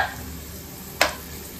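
Chopped onion sizzles steadily in a pan over a high flame, a continuous even hiss with one brief sharp scrape or stir about midway through.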